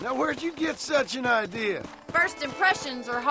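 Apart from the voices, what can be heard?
No everyday noises stand out.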